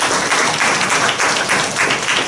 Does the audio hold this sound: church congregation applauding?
yes